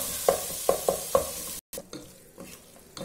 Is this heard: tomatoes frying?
yes